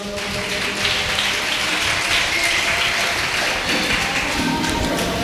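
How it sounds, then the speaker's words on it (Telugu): A Telugu Sunday worship congregation claps loudly, a continuous thick patter of many hands at a steady level throughout. "గట్టిగా చప్పట్లు పెడదాం"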